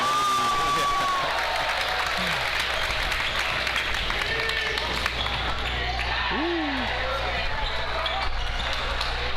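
A large indoor crowd roars and cheers steadily throughout a high school basketball game, with a ball bouncing and scattered voices mixed into the dense, continuous noise.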